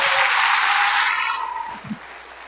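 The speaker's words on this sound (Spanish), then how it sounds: "Dale un aplauso de gratitud al" A church congregation breaks into a burst of applause that rings out loudly at first, then thins and fades within a couple of seconds, leaving a few scattered low thumps.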